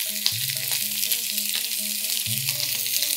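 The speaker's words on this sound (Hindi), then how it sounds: "अभी गरम तेल में प्याज और दो लाल मिर्च कलर वाली" Onion and two red chillies sizzle steadily in hot oil, a dense, continuous hiss close by. A voice speaks over the frying throughout.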